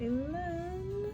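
A pet cat meows in the background, a single drawn-out rising and falling cry lasting about a second, fairly clear behind a woman's brief speech during a makeup session.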